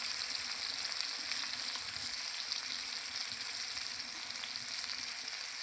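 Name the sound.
corn fritters frying in oil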